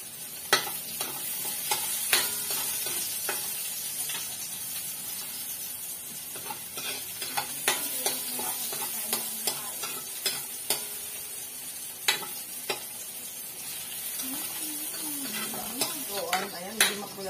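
Garlic sautés and sizzles in a hot pan while cooking chicken afritada, a constant crackling hiss broken by sharp clinks and scrapes of a utensil stirring against the pan.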